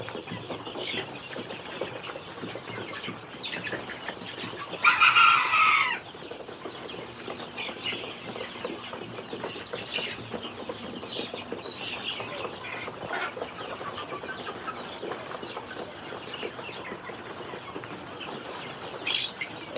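Egyptian breed chickens kept in a home yard cluck and murmur steadily nearby, with one brief burst of loud wing flapping and squawking partway through, no voices.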